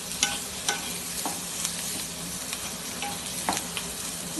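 Spiced potatoes with coriander fry in a pan, a constant hiss under repeated spoon scrapes and taps as they are stirred, close and moderately loud.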